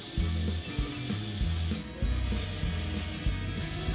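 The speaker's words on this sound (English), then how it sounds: "Option 2, rack and pinion elevator. Model assembly. Add electric motor and pin." A LEGO Technic rack-and-pinion elevator driven by an electric motor runs close and fairly loud, giving a continuous grinding, ratcheting rattle of plastic gear teeth with small rhythmic shifts in pitch.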